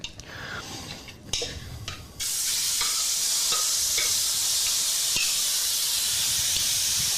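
Beef for Bo Luc Lac (shaking beef) hitting a smoking-hot pan with vegetable oil sets off a loud, steady roaring sizzle, preceded by a few clatters and stirring noises.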